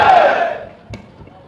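A crowd at a government ITI building inauguration ceremony in Gorakhpur lets out a brief roar of noise that fades within a second, leaving near quiet with a couple of faint knocks.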